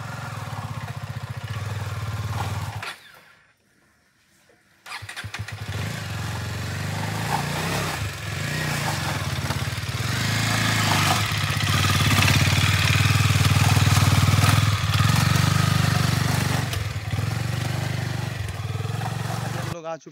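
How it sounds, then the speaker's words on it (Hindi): A motorcycle engine drones steadily and close while riding a slippery jungle path. It cuts out briefly for about two seconds early on, then returns louder with some clatter. "तो मैं अभी इधर से बाइक चला के जाऊँगा, मेरा बाइक लेके आया हूँ मैं।"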